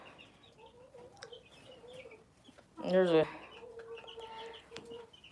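Backyard hens, one of them a Silkie, cluck softly in a coop at night, with a sharper, louder burst of clucking in the middle while a person talks quietly.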